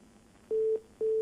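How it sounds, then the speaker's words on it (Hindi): Telephone busy tone after a dropped call on a news phone-in: two short identical beeps, each about a quarter second long with a pause between, fairly faint over a quiet line. "फोन कट गया है।"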